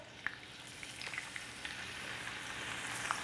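Hot oil sizzles quietly and steadily, a soft crackling hiss with occasional small pops close by.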